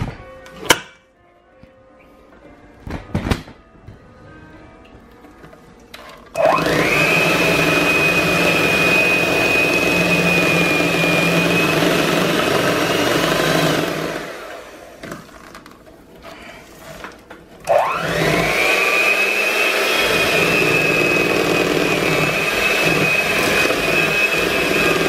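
An electric hand mixer whirs steadily as it beats cream cheese with strawberries for a strawberries-and-cream cake, running in two long loud bursts with a short pause between them and a few light clatters before it starts.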